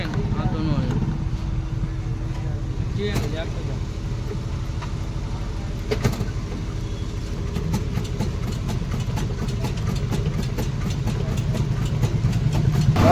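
A tractor engine runs steadily at a low, even idle, close by and continuous, with faint clanks and a person talking over the drone.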